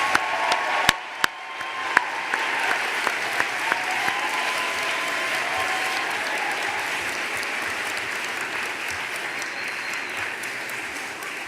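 A graduation crowd of the class of 2017 breaks into sustained applause, steady and full after a few sharp early claps, filling the hall with dense clapping.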